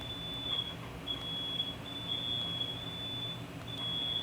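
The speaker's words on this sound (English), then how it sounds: "Oh great, the fire alarms are going off." A high, steady electronic fire alarm tone sounds in a repeating on-off pattern, fairly faint and distant, over a low background rumble in a garage.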